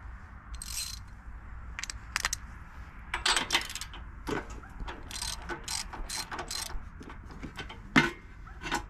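A ratchet wrench with a 13/16 socket turns the engine of a Predator 420cc small engine, making close, quiet bursts of rapid clicking in irregular strokes with short pauses between them.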